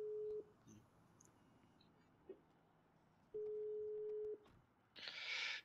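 An unanswered phone call in a role-play video game, with two long, level ring tones separated by a pause, each sounding the same, plus faint clicks and a brief burst of noise at the end.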